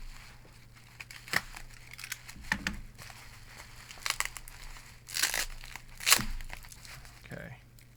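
A taped package is pulled open by hand, with bursts of tearing tape and crinkling packaging in short irregular rips between quiet pauses, and a voice speaking at times.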